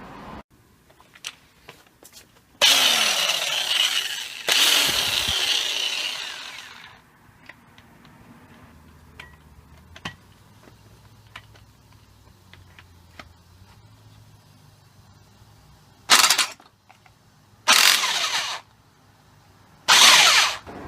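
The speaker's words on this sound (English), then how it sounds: "I will try to use impact wrench." A pneumatic impact wrench on a BMW E46 front suspension strut nut fires in three loud rattling bursts early on, then three shorter bursts near the end, with quiet workshop clicks and ticks between them and no talk.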